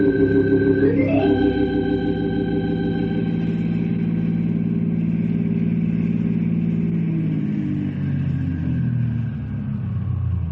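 A car engine runs steadily while driving, a deep continuous rumble with a brief rising rev early on, close and loud with no talking.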